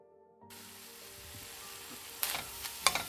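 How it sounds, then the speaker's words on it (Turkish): Mushrooms sizzle steadily in a hot pan, with a few louder scraping clicks of a utensil stirring them near the end. "şöyle bir karıştıralım."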